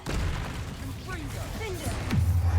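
A fiery Confringo blast spell is cast in the Hogwarts Legacy video game, with bursts of magical effects and a deep boom building near the end, while a character's voice speaks over the action.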